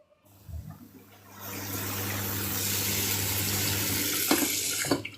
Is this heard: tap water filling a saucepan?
yes